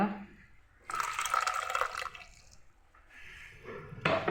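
Water rinsed from a mixer jar is poured into a tambuli made with ili kivi soppu greens, a splashing pour of about a second followed by a quieter trickle and a second brief splash.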